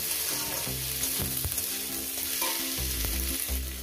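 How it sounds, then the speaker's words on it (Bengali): Eggplant frying in hot oil with salt and green chilli, a steady close sizzle with a few stirring scrapes, no voices. "ভেজে নেব।"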